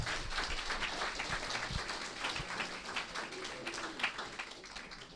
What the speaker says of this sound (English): Let's give a round of applause to these people.